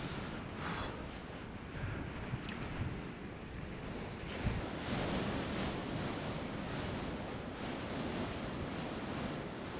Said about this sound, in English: That wind was horrendous.